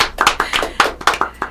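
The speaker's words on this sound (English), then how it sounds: "Let's give Whitney a round of applause, everyone." Brief, scattered hand claps from a small studio audience, a handful of sharp close claps in an uneven rhythm, with no voices.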